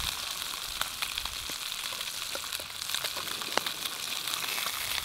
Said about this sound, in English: You wouldn't get that cooking sizzling effect if you didn't have that cooking oil